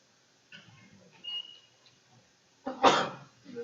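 A single sharp sneeze bursts out near the end, preceded by faint breathing and small mouth sounds in a quiet indoor room.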